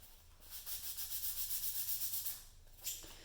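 Quiet rhythmic scraping of a sanding block on a model rocket part, a steady back-and-forth rasp repeated about a dozen times, with a slightly sharper final stroke.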